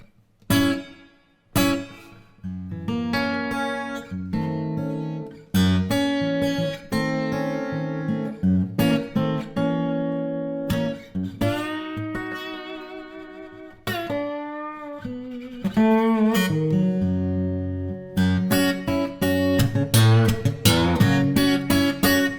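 An unplugged Enya X3 Pro carbon fibre acoustic guitar is strummed and picked, with reverb sounding from its internal speaker through the sound hole. Chords and single notes come in bursts with short gaps and ringing tails, and nobody speaks.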